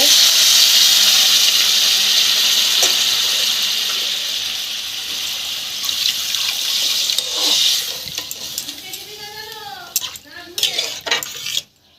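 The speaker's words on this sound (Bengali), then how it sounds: "এবার জল দিয়ে দেবো।" Water poured into a pot of mankochu and prawn curry, a loud rushing splash at first that gradually eases, followed by clinks of a utensil against the pot near the end.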